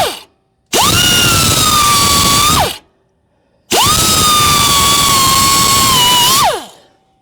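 Two long bursts of a power tool driving fasteners on the sway bar links of a lifted truck fitted with 37-inch Baja Legend MTZ tires, each steady whine ending in a falling wind-down, separated by short silent gaps, loud and close.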